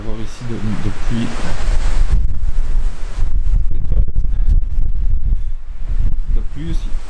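Strong wind buffets the microphone on the Norwegian coast, a loud continuous roar with gusty low rumble that persists throughout, rain falling, and a voice speaking briefly near the start and end.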